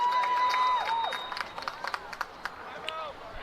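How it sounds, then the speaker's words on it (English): Crowd of spectors cheering and clapping at a high school boys varsity lacrosse game in Westerly, with scattered claps and shouts under a sustained whistle tone and brief sliding tones. "That has not stopped the crowd here in Westerly from being on their feet, cheering, that's for certain"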